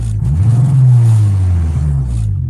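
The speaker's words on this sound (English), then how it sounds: "rev it a few times" Honda GSR car engine revved hard, a loud close drone rising then easing back down in a single swell, steady and unbroken, with no talking.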